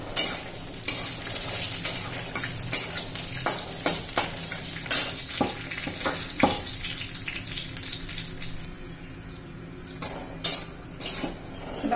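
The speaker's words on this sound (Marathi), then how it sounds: "खोबरे चांगलं भाजून घेऊया" Grated coconut roasting in a little oil in a kadai for mutton masala gives a steady soft sizzle with scraping stir strokes, close and moderately loud, with no voices.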